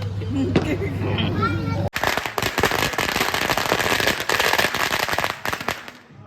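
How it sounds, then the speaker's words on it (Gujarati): Diwali firecrackers bursting in a rapid, crackling barrage that fills most of the stretch, loud and dense after a short opening of voices and music, with people talking and a crowd murmuring underneath. "ફટાકડા ફટફટ ફૂટે"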